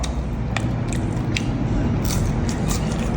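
Repeated crisp crunching bites into crunchy fried food at a sports bar, close and loud, crackling at an uneven pace over a steady low hum.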